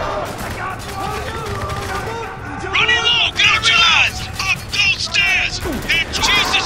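Dense gunfire rattles through a firefight in the video game Spec Ops: The Line, with bursts of shots and mechanical clatter under loud, shouting voices.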